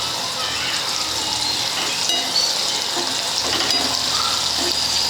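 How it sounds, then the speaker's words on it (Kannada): Moong dal (hesaru bele) chips fry in hot oil, a dense, continuous bubbling sizzle heard up close, steady throughout with faint stirring. "ಫ್ರೈ ಆದ ನಂತರ ತಿರುಗಿಸಿ ಹಾಕ್ಕೊಳ್ರಿ. ನೋಡಿರಿ ಎಣ್ಣೆ ಫ್ರೈ ಆದಂಗೆ ತವೆ ಮೇಲೆ ಬರ್ತಾವೆ ನೋಡಿರಿ."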